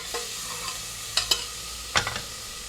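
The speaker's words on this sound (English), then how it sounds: "That will caramelise the onions quicker." Onions with salt frying in a pan as they caramelise for lamb tikka, stirred now and then: a steady close sizzle broken by a few sharp spoon scrapes and knocks against the metal, no voices.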